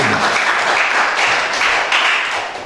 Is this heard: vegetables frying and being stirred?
no